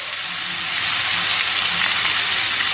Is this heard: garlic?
yes